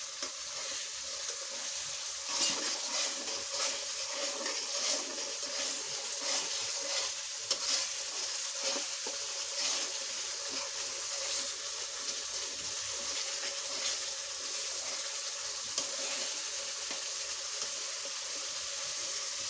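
Spice paste with ground coriander, cumin and salt fries in a pan for a pangas fish curry with radish and turnip, a steady close sizzle broken by repeated scraping stirs, with no talking.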